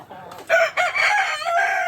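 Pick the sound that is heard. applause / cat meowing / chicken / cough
chicken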